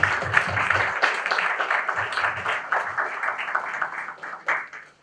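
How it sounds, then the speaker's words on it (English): An audience at a lecture on the meaning of success from a Vivekananda perspective gives a round of applause. The clapping is brisk and close at first, then thins and fades out by the end. "Let's again give a huge round of applause to Swami Nikhileshwarananda."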